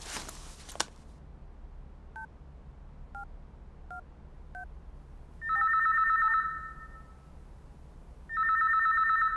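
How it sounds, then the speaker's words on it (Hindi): A telephone rings in an office-like setting, preceded by a few short, faint beeping tones like dialing, then two loud, sustained electronic ring bursts with a pause between them, heard alone without talk. "उसके नंबर पर फोन करो।"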